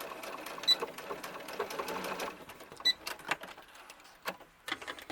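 Sewing machine stitching the ends of a doll shirt band near the collar: bursts of rapid mechanical whirring stitches, close and moderately quiet, broken by brief pauses and a few sharp clicks as the needle stops and restarts.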